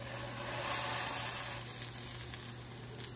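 Steady, close sizzle of a vegan burger patty with cheese frying on a flat griddle, constant hiss with slight swells, no voices.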